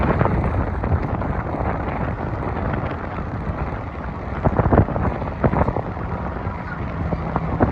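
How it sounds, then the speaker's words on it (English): Strong wind buffets the microphone in a riverside park on New York's Upper West Side at sunset, a steady loud rumbling roar with gusty surges throughout, no voices. "it is extremely, extremely windy here tonight"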